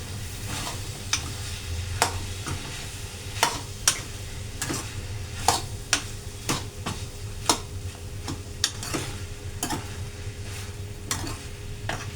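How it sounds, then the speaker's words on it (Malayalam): Cauliflower stir-fry (gobi mezhukkupuratti) being stirred in a pan, a spoon scraping and clicking against the metal in a steady series of sharp taps over a low, constant sizzle, close and without talk. "തുറന്ന് നോക്കി നമുക്കിതൊന്ന് ഇളക്കി."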